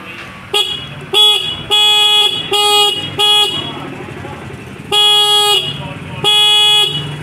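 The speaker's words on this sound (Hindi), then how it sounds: "हॉर्न अच्छा बज रहा है।" A loud Honda Dio scooter horn, just repaired, honks repeatedly in short and longer blasts, an uneven rhythm of beeps up close with pauses between.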